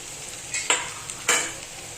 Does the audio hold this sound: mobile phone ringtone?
no